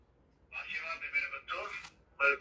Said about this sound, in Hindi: रिंगटोन लगी हुई है, रिंगटोन सुनाता हूं आपको मैं।